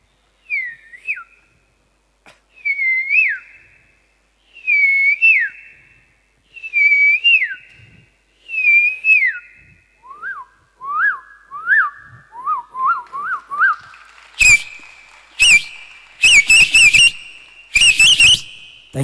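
A mimicry artist on an awards-show stage whistles a koel's call with his voice: a string of rising, looping calls, then quicker, shorter notes, ending in sharp, loud bursts. It is clear and close, with no talk.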